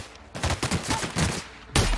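Rapid gunfire in The Outer Worlds, a dense volley of shots crackling for over a second, a brief lull, then another burst of fire.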